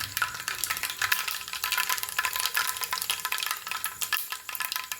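Chopped onions, shallots, green chillies, ginger and garlic stirred in a hot pan for a radish curry, giving a steady close sizzle with scraping and stirring rattles throughout.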